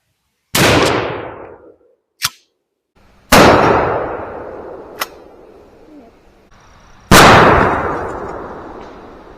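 Three loud blasts from a 12-gauge shotgun firing 3.5-inch Winchester SuperX #4 buckshot, each sharp report trailing into a long echoing decay, with a faint click between the first and second shots.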